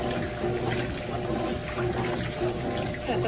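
A Consul 12kg CWS12 washing machine fills with water for an eco rinse, a steady, continuous rush and trickle of running water inside the drum, close and even throughout with no voices.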